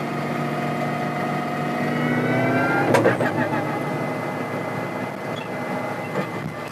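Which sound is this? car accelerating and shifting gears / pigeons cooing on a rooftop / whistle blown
car accelerating and shifting gears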